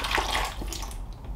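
About 150 ml of water pours into a sealed plastic pot holding potter's plaster, a close, continuous splashing gush that fades gradually as the stream eases off.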